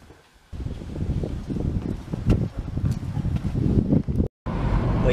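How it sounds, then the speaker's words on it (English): Wind blows outdoors in the English downland before a run, a loud, continuous rumbling gust buffeting the microphone, with one short dropout near the end. "it's getting windy out there"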